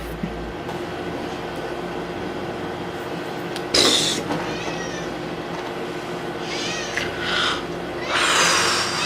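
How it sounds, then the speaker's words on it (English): A pet cat meowing up close, several drawn-out, wavering meows clustered near the middle and end over a steady room hum, with no talking. "Meow. Meow."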